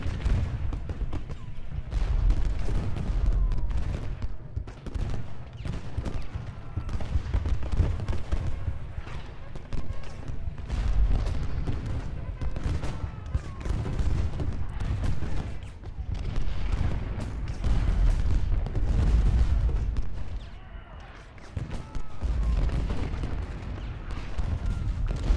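Artillery and rifle volleys from a Union Day 3 battle at Benner's Hill in Ultimate General: Gettysburg, with dense, continuous booms and crackling shots rolling on without pause and only a brief lull near the end.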